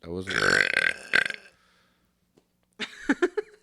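Loud, drawn-out burping during a podcast-style belching contest: one long, rumbling belch, then a pause and a shorter burst of choppy burps.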